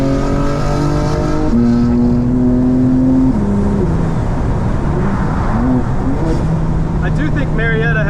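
A 2024 BMW M4 driving on Atlanta city roads, its engine climbing through rising pitch sweeps and dropping between gears, loud and close, with a person talking over it in the cabin.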